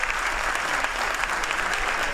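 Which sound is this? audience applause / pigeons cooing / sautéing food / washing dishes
audience applause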